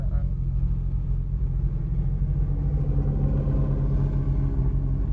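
Audi S4 B6 Quattro pulling away from a standstill, a steady low engine rumble with a mild rise in revs, close and continuous throughout.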